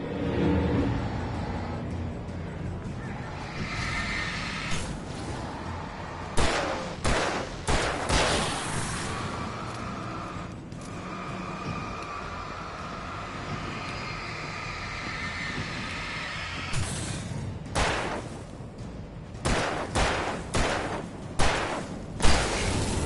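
Sharp gunshots from the player's weapon in the video game Alan Wake crack out in several clustered bursts, loud and close over a steady ambient game rumble, with a quieter stretch between the volleys.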